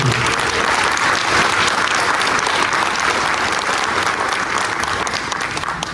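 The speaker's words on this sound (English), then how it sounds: "How about a big round of applause for Officer Aguilar back there?" A community meeting crowd claps for a police officer, a loud, dense burst of applause that holds steady for about six seconds before starting to fade.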